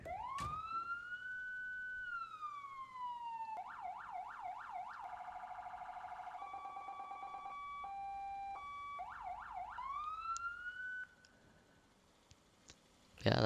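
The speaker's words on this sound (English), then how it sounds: "the sirens on this I like" Emergency truck siren from the EmergeNYC video game, cycling through wail, yelp and steady tones at close range and loud, with brief clicks as patterns change before it cuts off near the end.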